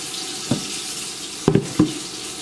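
Tap water runs steadily into a sink during handwashing, a continuous close hiss broken by a few brief splashes and clinks as hands move under the stream.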